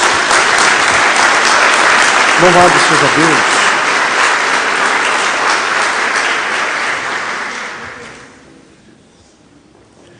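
A church congregation applauds for Jesus, loud sustained clapping from many hands that carries on for about eight seconds before fading out, with a voice speaking briefly over it.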